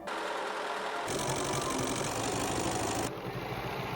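Embroidery machine stitching a design onto a fabric apron, a loud steady mechanical whir with rapid needle chatter that shifts pitch partway through and continues without voices.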